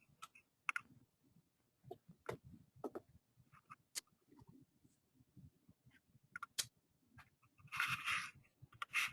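A computer mouse gives a series of sharp, isolated clicks at irregular intervals in a quiet room, with a short burst of rustling near the end and no talking.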